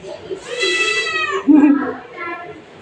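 A house cat meows loudly and close by, giving two or three drawn-out, rising and falling cries within a few seconds, with no speech over it.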